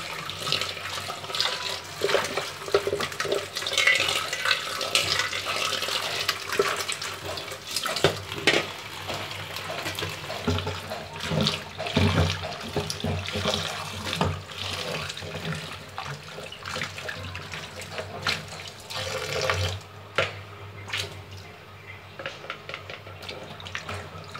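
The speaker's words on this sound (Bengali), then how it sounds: "আমি আরও একবার ধুয়ে নেব।" Running tap water splashes steadily as Malabar spinach and pumpkin are rinsed by hand, with irregular louder gushes and splatters over the continuous flow, close by and without talk.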